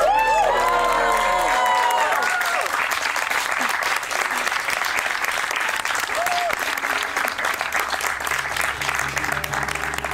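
Wedding guests break into loud, sustained applause mixed with cheering and scattered shouts, a dense crowd roar that stays steady for the whole stretch, with a brief sung or called-out voice near the start.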